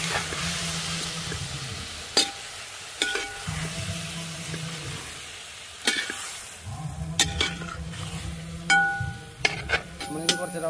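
Chicken frying in a pan for chicken curry, stirred with a spatula: a steady sizzle underlies rhythmic scraping strokes and a few sharp metallic clinks against the pan, close up.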